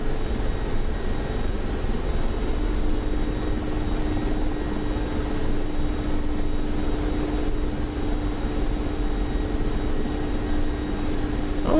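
Mi-24P Hind helicopter in DCS, its turbine engines whining in a steady, loud drone with a constant tonal hum and rotor rumble throughout.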